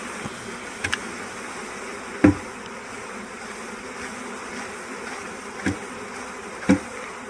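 A steady, low insect buzzing of bees being put into a hive, with a few brief knocks and clicks standing out above the drone.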